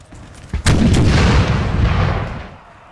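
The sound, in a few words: canister shot artillery fire in video game Napoleon: Total War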